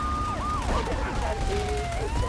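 Wailing police sirens from GTA 3 Definitive Edition sweep up and down over a steady low rumble of traffic and rain, several overlapping and fairly close.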